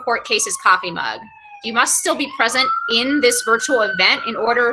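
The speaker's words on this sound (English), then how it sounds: "I think maybe some of you can hear the siren outside my window" An emergency siren wails outside a window, a faint wavering tone rising and falling steadily behind someone speaking close to the microphone.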